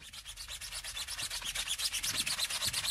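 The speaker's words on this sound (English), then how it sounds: "Tough shine brush now on the tyres" Tyre brush scrubbing a car tyre lathered with wheel shampoo, a steady rapid back-and-forth rubbing rhythm, close up and with no talking.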